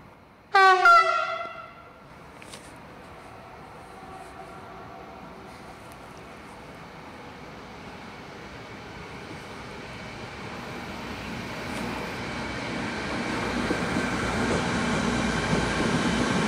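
An S-Bahn train on the Brenner line, with a short horn-like tonal blast at the start followed by a steady, swelling rumble of a train passing and building louder toward the end, no voices present.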